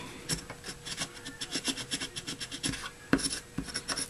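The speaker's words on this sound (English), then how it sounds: "Just rub the edge of my boom folder in there to make sure it catches really well." Repeated rubbing strokes of a bone folder pressed along a paper edge in a card-making project, short dry scraping passes in an irregular rhythm, close and fairly quiet, with no talking.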